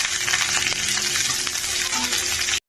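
Chopped onions hit hot oil with whole garam masala in a pan for a crab curry. A loud, steady, close sizzle and crackle holds throughout, with faint stirring clinks, then cuts off abruptly.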